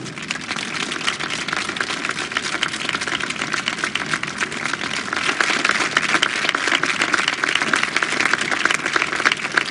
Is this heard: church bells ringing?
no